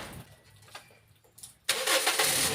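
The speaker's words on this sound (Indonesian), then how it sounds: "kita akan melakukan pengetesan dengan dijalankan mesinnya" A 2012 second-generation Toyota Vios engine starts after a fan belt replacement: a quiet stretch, then the engine suddenly catches and settles into a loud, steady run close by.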